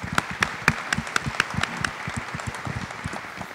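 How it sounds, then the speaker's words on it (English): An audience applauds panelists at an education event: a burst of many hands clapping, dense and fairly close, with sharp individual claps standing out early and the applause holding steady through the clip. "Round of applause for our panelists."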